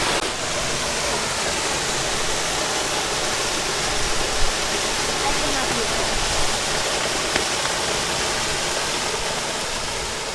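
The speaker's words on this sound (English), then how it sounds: "there's the little waterfalls" A small waterfall in the Kimberley, near the King Edward River, pours in a loud, continuous broadband rush, steady throughout with no pauses.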